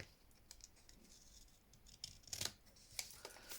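Scissors snipping paper while trimming handmade journal ephemera, a few faint, sharp close-up cuts and rustles at irregular intervals in a quiet room.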